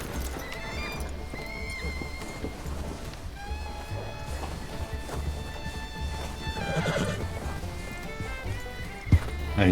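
Steady clip-clop of horse hooves with occasional whinnies in the video game Red Dead Redemption, set against game music and a low rumble, with a sharp thump near the end.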